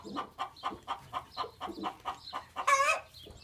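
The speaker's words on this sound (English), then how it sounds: "That is one congratulatory chicken." A chicken clucks in a steady run of about a dozen short, evenly spaced calls, ending in a louder, higher squawk, close by and with no talk.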